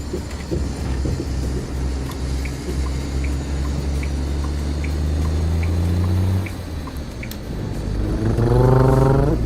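A truck engine in American Truck Simulator, played in VR, drones loudly and steadily, then revs upward near the end with rising harmonic tones, over a faint background hum.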